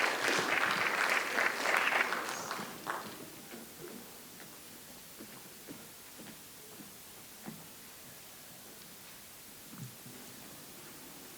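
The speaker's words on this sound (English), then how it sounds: "Clap them onto the stage." Applause from a poetry slam audience greeting a performer onto the stage, dense and moderately loud for the first few seconds, then fading into scattered claps and quiet room noise.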